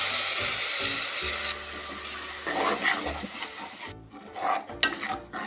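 Ground coconut paste being added to a Kerala-style moru curry and stirred, loud steady sizzling that cuts off abruptly, followed by wet spoon scrapes and stirring noises.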